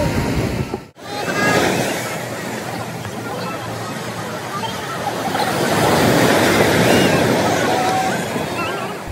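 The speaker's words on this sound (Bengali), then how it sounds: "ঢেউটা দেখো একবার তোমরা" Sea waves surge and break continuously on Digha beach, a loud, steady wash of surf with wind buffeting the microphone and a brief dropout near the start.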